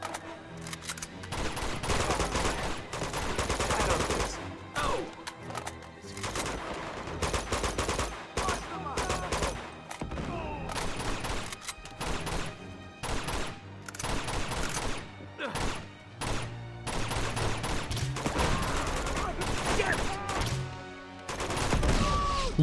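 Dense, rapid gunfire from the video game Uncharted 2: Among Thieves, with bursts of automatic and single shots crackling almost continuously at loud, close range amid game effects.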